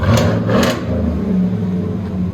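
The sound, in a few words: V8 truck exhaust revving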